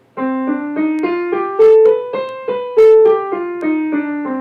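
Piano playing a C melodic minor scale, single notes struck one after another in a steady, even rhythm, clear and close with no voices.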